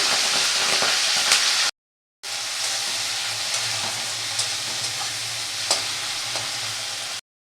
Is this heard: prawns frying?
yes